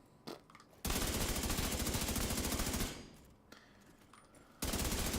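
Video game gunfire in Division 2: two long, loud, rapid automatic bursts separated by a short lull, with a few brief clicks and mechanical sounds in the quieter gaps, no voices.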